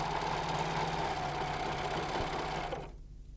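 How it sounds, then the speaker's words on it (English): A Janome 634D overlocker stitches fabric over piping cord, its motor running at a steady, loud whir with a fast mechanical stitching rhythm for nearly three seconds before it stops and only faint room hum remains. "Now you can sew, guiding the cord underneath the groove."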